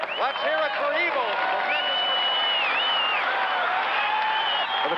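A crowd at an Evel Knievel motorcycle stunt show applauds and cheers, a broad wash of clapping and crowd noise, with voices calling out and talking over it throughout.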